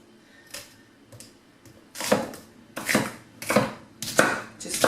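Onions are roughly broken up by hand for beef pasties, with several loud, close crunching and snapping bursts at an even rhythm that grow stronger after a few faint opening taps.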